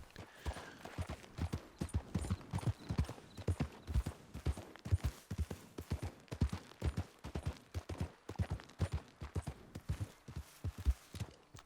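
Horse hooves clip-clop in a steady, fast rhythm throughout in Red Dead Online, loud and close with no talk over them.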